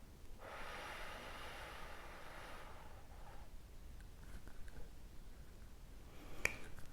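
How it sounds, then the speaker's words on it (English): A slow nasal inhale in a breathing meditation, a faint airy sniff lasting a couple of seconds, then quiet with soft breath noise and a small click near the end. "So we're going to begin with just inhaling through the nose."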